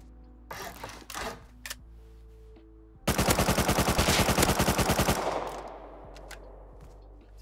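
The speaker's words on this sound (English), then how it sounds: "If I can spray this guy with MP5 here." Rapid MP5 automatic fire in Rust, a loud, steady burst of about two seconds with evenly spaced shots, set between scattered game clicks and low background hum.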